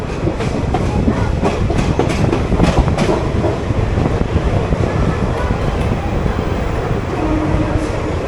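A train rolls through Palakkad Junction station, with a continuous loud rumble and rhythmic clickety-clack of wheels over rail joints.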